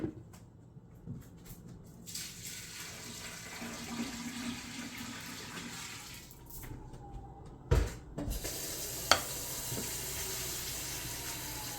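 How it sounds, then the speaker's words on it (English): Water added to a batch of wisteria lime mead, a steady pour splashing and running for several seconds with a couple of brief clunks of containers near the end, close and moderately loud. "And then we're going to add our water."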